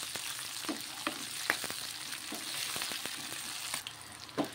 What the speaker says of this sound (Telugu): పచ్చిమిరకాయలు వేగుతున్నాయి కదా